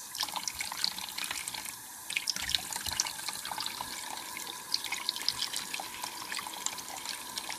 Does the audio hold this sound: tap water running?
yes